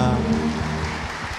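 Brief burst of congregation applause during a Sunday church worship service, a steady patter of many hands over a fading sung or spoken tone.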